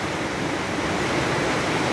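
Floodwater pours with great force through a collapsing dike at São João da Barra, a loud, steady broadband rush of water with no talking.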